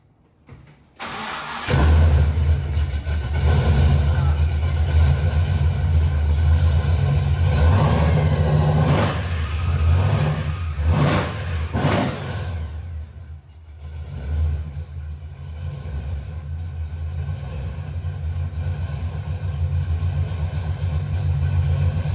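A supercharged blower engine cranks and catches, then revs up loudly several times before settling into a deep, rough, steady idle, close and alone.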